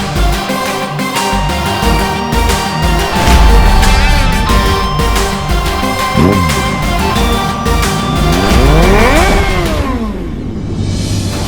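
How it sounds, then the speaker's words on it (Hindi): A friend's motorcycle engine revs and accelerates, loud and continuous with rising and falling pitch sweeps, holding strong over the whole stretch before cutting away near the end. "ये तो दोस्त की बाइक की ही आवाज है।"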